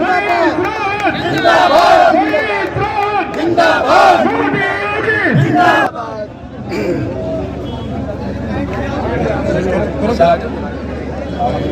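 Large crowd at a BJP MLA Manish Rawat welcome ceremony in Sidhauli, chanting and cheering loudly with dense hubbub; the chants and shouts ease after about six seconds into steadier crowd murmur.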